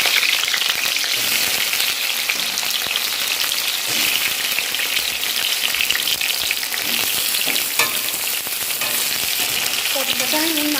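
Pieces of salted pointed gourd fry in hot oil on a wood fire, making a loud, dense, continuous sizzle like heavy rain, with a few faint clinks near the end and no talking.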